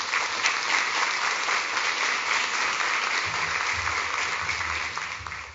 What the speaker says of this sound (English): So please give another round of applause to our sponsors.